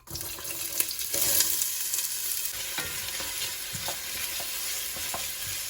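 A third of a cup of rinsed rice fries in a hot pan, giving a steady bright sizzle with occasional stirring scrapes and clicks, close by and without talk.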